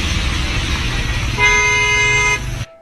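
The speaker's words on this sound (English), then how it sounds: "The car he cuts in front of even beeps loudly, just hurrying him to get out of their way." A car horn blares loudly and continuously for about a second over steady road traffic noise, cutting off abruptly near the end.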